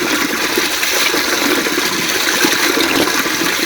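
Water pours steadily and without pause from a temple spring at the Zarmar Mata shrine, a dense, continuous close rushing that stays even in loudness throughout with no voices.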